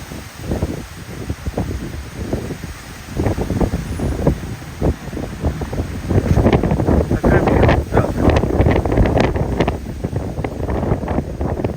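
Strong, gusty wind roars and buffets the microphone in a field of soybeans and corn ahead of a storm, growing louder and more turbulent partway through, with rustling and rattling in the blasts.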